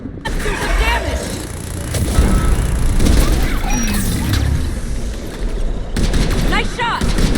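Dense, continuous gunfire and explosive booms fill a chaotic battle in Mass Effect Legendary Edition, with rapid overlapping shots throughout and sparse voices underneath.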